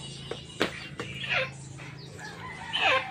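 Chickens clucking and a rooster crowing nearby, with a few sharp knocks and faint background noise.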